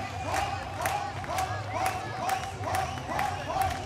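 A local crowd cheers and roars steadily behind trials rider Kenny at a UCI Trials World Cup super final in Aalter, with rhythmic rising swells of noise and talk mixed into the hubbub.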